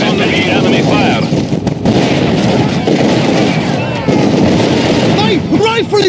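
Gunfire and artillery rumble in a World War II Stalingrad battle in Company of Heroes 2, a dense, loud, continuous barrage of shots and blasts with soldiers' shouted voices over it.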